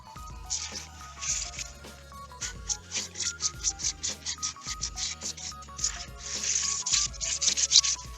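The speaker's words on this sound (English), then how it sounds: "If you rub it aggressively, it's almost like sanding it." An old 3D foam aquarium background being rubbed hard by hand, a gritty sanding-like scraping in repeated short strokes, close and fairly loud, growing faster and busier toward the end.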